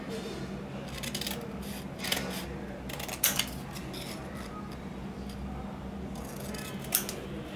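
Scissors snip through paper to cut out a pencil-drawn flower shape for a paper sculpture flower pot, a series of quiet, irregular crisp cuts and rustles close to the microphone.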